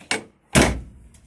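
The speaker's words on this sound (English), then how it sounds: "self-closing doors." A Lada car door swings shut on its own and lands with a solid clunk, preceded by a softer knock, close and alone with no talking.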